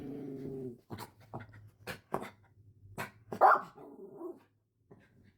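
Yorkie dog barking indoors, a string of sharp yaps and short barks with a brief growl-like whine, close and fairly loud, after a moment of low humming at the start.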